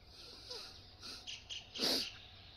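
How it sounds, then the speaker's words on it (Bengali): Birds chirp quietly around a village on a misty winter morning, a few thin, high calls and one brighter burst scattered over near silence. "পাখির কিচির মিচির শব্দ"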